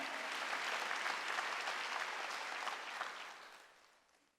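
A church congregation claps during a Wednesday worship service, a dense burst of many hands that holds steady and then fades out toward the end, with no voices over it.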